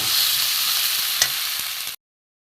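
Okra sizzles in a pan with spices and onion over a low flame, a steady close hiss with a faint stirring knock partway through, running about two seconds before cutting off.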